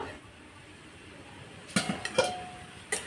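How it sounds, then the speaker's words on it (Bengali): A metal lid comes off a cooking pan of fried leafy greens, giving a few sharp metallic clinks and one brief ringing clank close by, over a soft kitchen background. "ঢাকাটা এবার তুলে নেব।"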